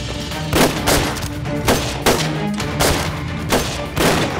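Gunfire in a battle scene from a Chinese war drama, several loud close bursts of rapid shots spaced by short pauses with a heavy low thump under them.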